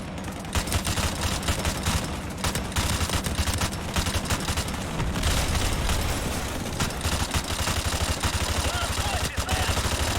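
Sustained gunfire and booming blasts as trucks explode in a Call of Duty Modern Warfare Remastered battle, dense and loud throughout with rapid bursts and heavy impacts layered over one another.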